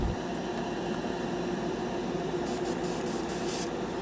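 Harbor Freight $20 dual action airbrush spraying Mr. Hobby Aqueous paint thinned half and half with lacquer thinner, a steady close airy hiss running throughout, with brighter bursts near the end.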